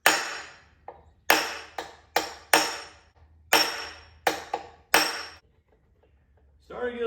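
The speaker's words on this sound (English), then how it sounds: "get this punch here, tap it with a hammer, and hopefully I can force the engine to get unstuck" Hammer blows on a metal punch driven against the stuck piston of a Suzuki Quadsport LT80 engine: about eight sharp metallic taps in an uneven rhythm, each ringing briefly before fading, close and clear, with a rustle at the end.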